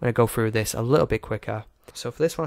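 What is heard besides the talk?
No everyday noise stands out behind the speech.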